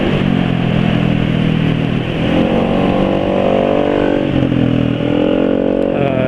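A loud Yamaha NMAX scooter engine idles and revs steadily through a modified exhaust, rumbling close up without a break.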